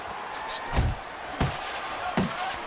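Punches landing in the boxing video game Fight Night Champion, three sharp thudding impacts spaced out over a steady crowd murmur and a commentator talking.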